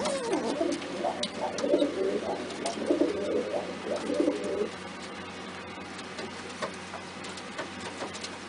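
A pet pigeon cooing close by indoors, several soft rhythmic coos over the first few seconds, then fading to faint background sounds.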